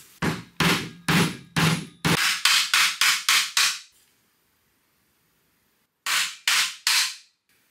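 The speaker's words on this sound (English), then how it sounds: "I'm going to try banging it back into place with a piece of wood." A dented foot on the bottom case of a Honda EM400 generator is struck back into place with a piece of wood: a rapid series of loud, sharp knocks, a pause, then three more blows, with no talking.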